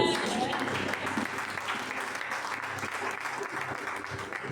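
A church congregation bursts into sustained applause, dense and steady hand-clapping from a crowd that fills the room, with a voice faintly audible beneath it.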